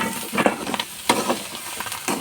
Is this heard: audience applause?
no